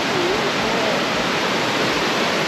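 A waterfall in Visconde de Mauá, Rio de Janeiro, roars in a dense, steady rush of white water, loud and close, with no voices.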